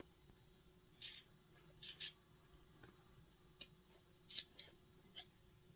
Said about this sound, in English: I'm going to trim this seam as close as I can to the seam line